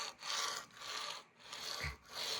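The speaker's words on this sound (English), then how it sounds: "they sound like plastic wheels running on the ground." Plastic wheels of a cheap $20 fingerboard rolling across a hard surface, giving four close scraping, rasping sweeps with brief pauses between them, alone with no talk.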